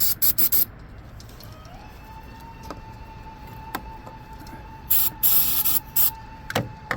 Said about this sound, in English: I'm going to pick it up and just spray it out really good and put it back.